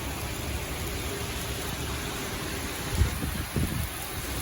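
Steady broadband rush of heavy rain and gusting wind during Tropical Storm Isaias in the New York/New Jersey area, a continuous close roar with a couple of brief low thumps near the end.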